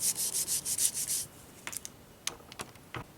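Quick rhythmic hand-sanding strokes on small plastic Honda Accord combination switch parts, about seven in a row, then scattered lighter scrapes and taps, close up and with no talking.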